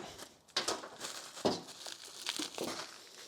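Styrofoam packing being cut and trimmed away from the 220 plug of a VEVOR 210 amp TIG welder, heard as close, irregular crinkling and scraping bursts with no talking.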